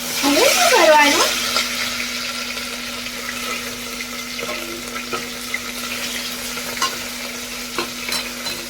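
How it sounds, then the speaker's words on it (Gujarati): Tomatoes go into a pan being readied for vagharela khichdi and frying sizzles up close, with stirring clatter loudest at the start and then a softer, steady frying hiss. "પછી આપણે નાખીશું એમાં ટામેટા"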